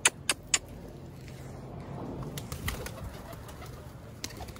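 Pigeons around a rooftop give three sharp wing claps at the start, then soft coos and fluttering over a faint background hum of traffic.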